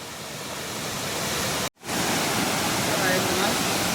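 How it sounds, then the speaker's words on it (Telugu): Mettuguda waterfall at Seethampeta, running high with heavy flow, produces a dense, loud, continuous roar of rushing water with one momentary dropout, heard up close and without other sounds. "వాటర్ ఫాల్ అయితే వేరే లెవెల్"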